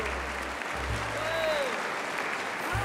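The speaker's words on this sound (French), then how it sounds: "Un tonnerre d'applaudissements, s'il vous plaît, pour Yaya, Alice et Sveva." A studio audience on a show bursts into dense, continuous clapping for three young guests, with a low hum underneath and a faint whistle through the middle.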